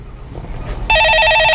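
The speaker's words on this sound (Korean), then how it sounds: "예, 전화 받아보겠습니다." A telephone bell rings loudly and steadily, its electronic trill starting abruptly after a moment of quiet room tone in a studio taking live calls.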